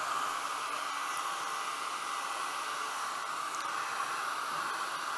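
A dryer blows steadily on paint during woodturning on a lathe, a constant close airy roar with no change and no talk.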